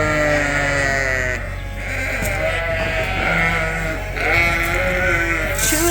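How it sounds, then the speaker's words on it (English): Several sheep in a breeding group of white-faced ewes and yearling Dorsets bleat in overlapping, drawn-out calls, close and loud against a steady barn hum. "And we have one special sheep in here."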